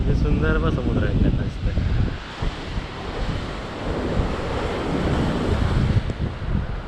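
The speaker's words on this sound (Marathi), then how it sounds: "सुंदर व समुद्र आहे." Sea waves wash against the coast near Vengurla lighthouse, heard as a rushing surf under heavy wind buffeting on the microphone, with a voice faintly audible at the start.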